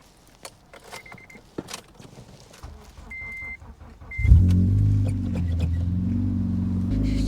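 A car engine cranks and catches on a snowy morning after a blizzard, then settles into a loud, steady idle. Before it fires there are faint clicks, rustling and a few short electronic beeps.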